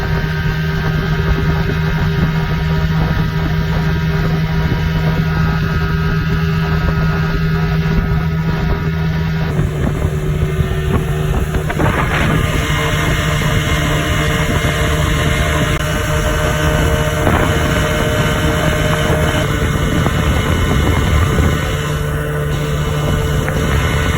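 A 30HP Johnson outboard boat motor at full throttle, a loud continuous buzzing drone with wind and water rush, steady and close throughout.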